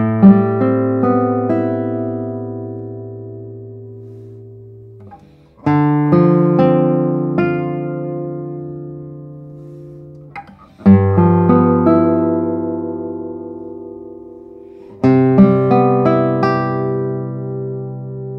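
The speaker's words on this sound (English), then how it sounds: "And let's see how this guitar sounds." A handmade Jim Redgate classical guitar rings out in four strummed chords, each left to sustain and fade for several seconds before the next one is struck. The notes are loud, close and unaccompanied.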